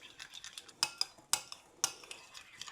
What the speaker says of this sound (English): So let's just mix this up, and it will be ready.